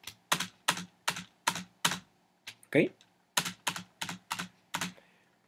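Computer keyboard keys are pressed one at a time while writing notation in Sibelius software, about a dozen crisp, close clacks in a quick, uneven rhythm, with a brief vocal sound partway through.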